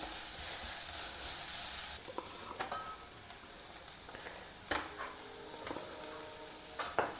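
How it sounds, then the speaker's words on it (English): Green chillies, grated carrot and curry leaves sizzle steadily in hot oil, a dense crackling hiss that drops lower after the first couple of seconds, broken by a few sharp clicks and scrapes of stirring. "Lightly fry all these in the oil."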